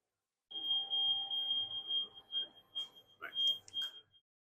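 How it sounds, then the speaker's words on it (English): A Sapiens combi oven sounds its preheat alarm as a thin, high, steady electronic tone, fairly faint and close, with a few brief clicks and faint background noise near the end. "the alarm will go off and it'll let us know it's ready"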